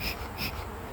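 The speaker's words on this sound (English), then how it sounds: "Get those bees off this back edge." Honeybees buzz around an open hive during a beekeeping session, a close, low hum with two brief swells as bees pass near, no voices heard.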